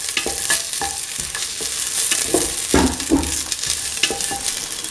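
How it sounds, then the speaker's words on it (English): Ginger, garlic and onion sautéing in a pan for a veg coconut-milk dinner, a steady close sizzle with frequent scraping stirs and utensil knocks running throughout without pauses. "sauteing the ginger and the garlic along with the onion."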